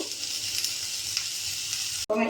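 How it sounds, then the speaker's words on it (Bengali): Snake gourd stir-fried in a pan: a continuous close sizzle with stirring scrapes, briefly cut off near the end before the frying resumes. "এইভাবে নাড়াচাড়া করে ভেজে নেব।"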